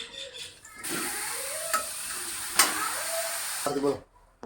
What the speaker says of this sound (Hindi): देखिए, अब गाजर को डाल दिया हमने, मिलाएंगे हम अच्छे से मैं गाजर को।